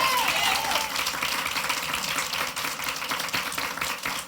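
Congregation applauding during a Sunday morning worship service in a Korean church, a broad wash of clapping that stays steady and fairly loud for around four seconds.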